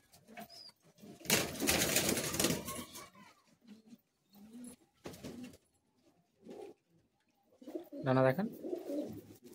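Madrasi high-flying pigeons in a Kolkata loft coo softly between short bursts of wing flapping, close by, while someone speaks briefly.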